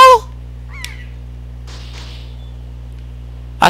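Short chirping bird calls from Wind Waker HD at Dragon Roost Island ring out briefly at the start and again near the end, over a steady low game hum.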